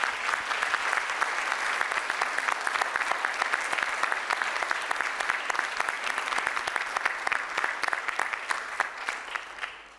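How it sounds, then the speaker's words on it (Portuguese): An audience at the opening session of a journalists' conference on working conditions breaks into big, sustained applause, a dense, even roar of clapping that runs throughout before fading at the end. "é para eles os dois que eu quero pedir uma enorme salva de palmas"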